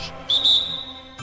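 A single sharp, piercing referee whistle blast, blown hard and held for nearly a second, loud and close.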